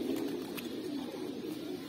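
A teddy breed pigeon gives soft, low continuous cooing, steady and close, with no other sounds over it.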